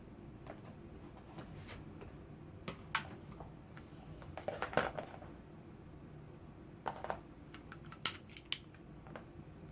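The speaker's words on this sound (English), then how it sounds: "Then I'm going to cut off the selvage." Scissors snip off the selvage edge of quilting fabric, giving a few sparse, sharp clicks and cuts close by over a quiet background hum.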